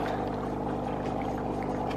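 Bubbling water churns in a foot spa filled halfway as feet slip in, a constant dense burbling and frothing hum with a low motor-like drone underneath, close and steady.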